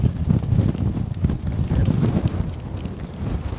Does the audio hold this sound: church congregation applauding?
no